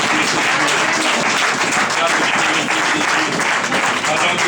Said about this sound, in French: Acclame pour le Fils de Dieu.